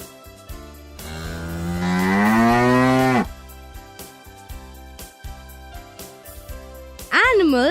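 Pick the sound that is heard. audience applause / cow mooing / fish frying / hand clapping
cow mooing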